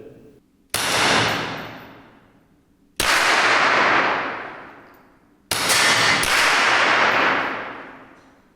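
Three loud, sharp 9 mm gunshots from a Kel-Tec SUB2000 carbine, spaced a few seconds apart, each followed by a long booming echo that slowly fades before the next shot.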